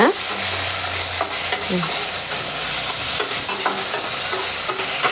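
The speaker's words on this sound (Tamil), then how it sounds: "வெங்காயம் தக்காளி ரெண்டையும் சேர்த்தே நல்லா வதக்கி எடுத்துக்கோங்க" Onions and tomatoes sautéing together in a pan for a chicken gravy, a steady loud sizzle with frequent scraping stirs of a spatula against the pan.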